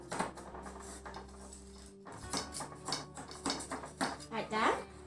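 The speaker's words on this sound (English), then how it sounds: "You use a spatula and then you cut around the edges." A spatula scrapes and taps its way around the edges of a tin holding a baked sponge cake, making close, busy metallic clatter in quick irregular strokes, while a voice talks quietly underneath.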